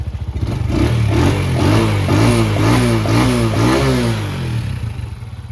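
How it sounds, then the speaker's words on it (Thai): A used dirt bike engine at a second-hand shop fires up and idles, then blips through several quick revs, loud and close with a steady mechanical clatter underneath. "เดี๋ยวลองสตาร์ทฟังเสียงเครื่องกันดู นะครับ เครื่องดีนะอันนี้ เครื่องก็นิ่งๆนะ"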